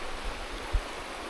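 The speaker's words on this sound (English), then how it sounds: "What a beautiful little stream here." A small clear stream on the Appalachian Trail in the 100 Mile Wilderness flows with a steady, soft broadband rush, close by and continuous, with one low thump partway through.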